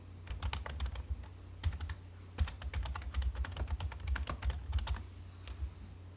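Keys on a computer keyboard clatter as an AutoCAD shortcut, BR and then Enter, is typed. A quick run of crisp, close clicks comes in bursts with brief pauses, and no one talks.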